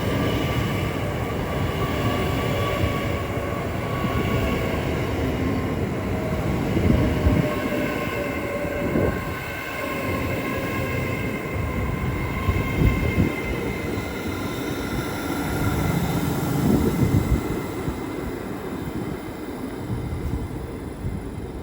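Train 807008 moves through Watford Junction on the West Coast Main Line, giving a continuous rolling rumble for over twenty seconds, with wheel and rail clatter and some wind buffeting on the microphone.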